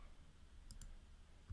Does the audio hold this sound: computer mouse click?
yes